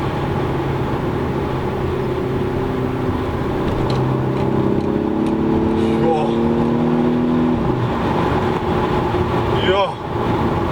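A Volkswagen Golf R engine revs after a downshift, its droning tone climbing in pitch over several seconds, then dropping sharply, loud and close beneath road noise.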